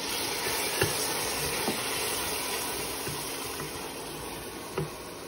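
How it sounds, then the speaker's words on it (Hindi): Dry spices in a pan for dhaba-style aloo keema give a steady, fairly quiet sizzle after a little water goes in, with a few soft clinks of stirring over the continuous hiss. "थोड़ा सा पानी डालेंगे ताकि मसाला जले ना।"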